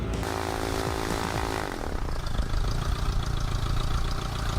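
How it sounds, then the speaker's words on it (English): A small propeller airplane that sat parked for years runs its engine while taxiing, a loud, steady buzzing drone with a pitch that drops early on, then settles into a continuous rough idle, close to the microphone. "I'm gonna taxi this thing around and park it."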